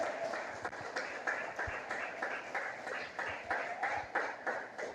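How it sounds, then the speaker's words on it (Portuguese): A church congregation claps along in a rhythmic, steady beat, the hand claps coming in regular pulses at moderate volume, with faint voices in the background. "pode aplaudir ao Senhor"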